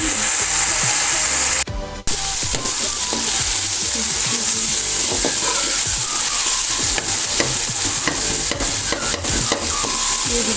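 A spoon stirs red chili powder and dried coriander into onion and tomato frying in a pan, giving a steady loud sizzle with repeated scraping strokes and a brief pause early on.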